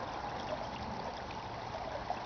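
Soft, steady trickle of a small stream flowing beside a fallen tree, a faint, even babble of water running continuously without pause.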